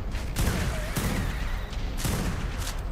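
Repeated bursts of gunfire in the video game ARK Genesis 2, with several heavy shots landing in quick succession over a constant loud rumble of game noise. No voices stand out.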